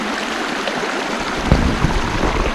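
River water flowing beside an abandoned old water mill in marshland, a continuous broad rushing wash, close and fairly loud, with a couple of splashy surges.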